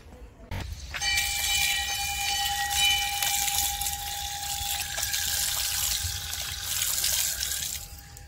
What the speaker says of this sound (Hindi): पहले पैर हाथ धोएंगे उसके बाद।